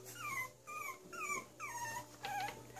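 Month-old Cavalier puppies whimpering in a run of thin, high whines and squeaks, faint and close in a quiet room.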